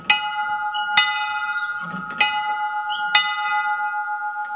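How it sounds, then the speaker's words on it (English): Church bell at a historical village in McKee, Kentucky, struck four times at roughly one-second intervals, each clang ringing on with a sustained metallic hum, near and clear with faint background noise. "That was the sound everybody heard when it was time for church."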